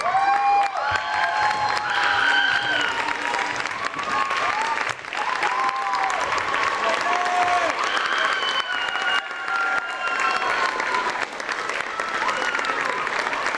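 A high school audience gives a standing ovation after an improv show, with loud continuous clapping and some scattered cheers and voices mixed in throughout.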